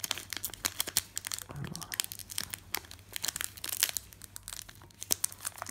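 Plastic foil wrapper of a Pokemon TCG booster pack, Evolutions set, crinkled and torn open up close in a string of sharp crackling bursts, with faint speech in the background.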